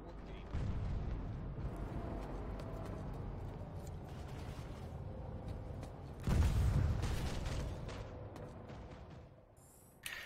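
A Vanguard tank in Planetside 2 fires at enemy armor, one heavy booming cannon blast with deep rumble rising above continuous battlefield noise and engine drone, with faint scattered distant shots.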